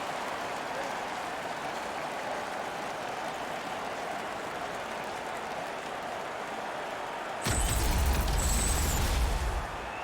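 Hockey crowd in Moose Jaw rising and cheering after a Dragoons goal, a steady roar of noise that surges louder near the end and then eases.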